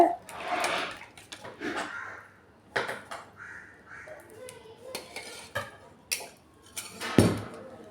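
Cooked rice being stirred together with boiled tamarind in a metal pot for tamarind pulihora, with scattered scraping and clinking of a spoon against the vessel at an irregular pace, close by, with a voice talking at times.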